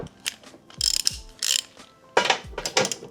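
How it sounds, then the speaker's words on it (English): A ratchet wrench takes out 15 mm crash bar bolts on a Tesla Model Y during a hitch install, several short bursts of rapid clicking, close and crisp, separated by brief pauses. "now we're gonna move these 3 bolts, 1, 2, 3 on either side to get the crash bar to come completely off"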